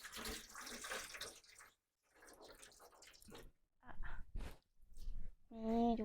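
Water drains and splashes off vegetables in a kitchen while a spicy pounded khanom jeen noodle salad is prepared, heard as a close, rushing pour in uneven bursts with short gaps and a brief voice near the end.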